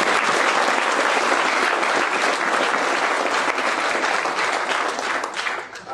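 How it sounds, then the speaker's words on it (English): A large audience gives a big round of applause for a guest at a morning event, the dense, close clapping staying loud and steady before thinning slightly at the end. "let's give him a big round of applause"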